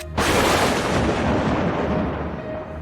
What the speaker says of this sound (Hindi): नीचे से हिंदुस्तानी तोप कर धड़ाम।